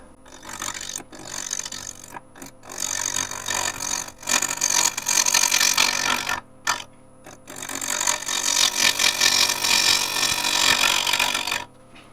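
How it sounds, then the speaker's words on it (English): A tool shear-scraping an off-axis wooden bowl spinning on a lathe makes harsh, rasping scrapes in several long passes separated by brief near-silent pauses, heard close up with no talking. "Little shear scrape on there."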